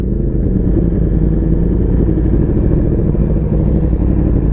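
A Yamaha R1M motorcycle engine runs loud and close in first gear, a steady, dense low rumble that holds even throughout with no voices over it.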